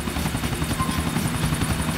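A helicopter in the video game GTA IV drones with a loud, steady rotor thrum and engine buzz, constant and close throughout, with no talking.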